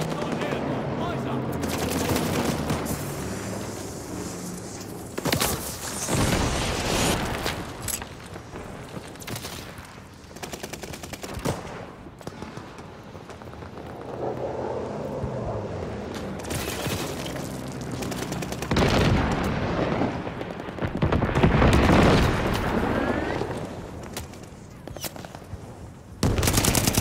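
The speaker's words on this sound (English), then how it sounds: "Friendly bombing run inbound." Heavy battlefield combat from a hardcore Call of Duty Vanguard match during a friendly bombing run, with dense machine-gun bursts, gunfire and booming blasts running continuously and loud throughout, and some voices in the mix.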